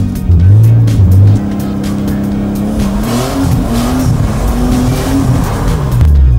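A car drifting on a practice course squeals its tires loudly while the engine revs and drones underneath, the pitch rising and falling as the tail slides out, close and continuous.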